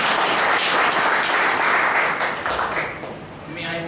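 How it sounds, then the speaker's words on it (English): A round of applause from an audience at an evaluation session, dense clapping that is loud and steady before tapering toward the end, where a voice begins speaking over the fading claps. "Let's give a round of applause."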